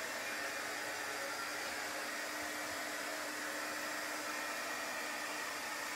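A hair dryer runs steadily and close, a constant broadband whoosh with a faint motor hum, drying chalk paste for the whole stretch with no voices.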